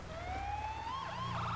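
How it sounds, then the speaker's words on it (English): A police siren in a video game wails loudly and steadily, its pitch sweeping gradually upward with no other sounds around it. "You have to use the sirens while passing through intersections."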